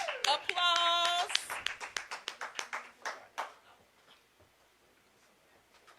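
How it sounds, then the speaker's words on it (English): An audience claps at a panel event, a burst of hand claps that thins into scattered, fading individual claps, with a voice speaking over the start. "Let's give him a warm applause."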